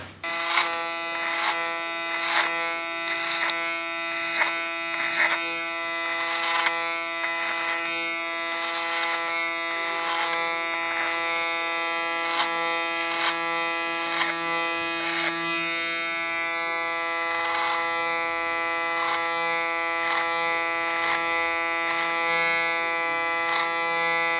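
An electric hair clipper buzzes steadily and close while cutting hair for a summer hairstyle. Its tone gives sharp little surges and clicks as it moves through the hair, with no voices.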